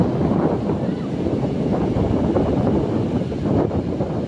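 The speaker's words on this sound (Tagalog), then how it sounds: "malakas ang alon" Strong surf and gusting wind at Paniman beach in Ternate, Cavite on an overcast day, a steady loud roar of breaking waves with wind buffeting the microphone throughout.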